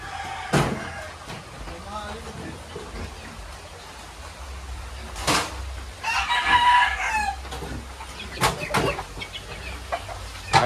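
Chickens and roosters belonging to a relative, kept in cages during a typhoon flood in Montalban, Rizal, crow and cluck repeatedly at close range, with several sharp crows and steady clucking over rain and background noise, while people talk nearby.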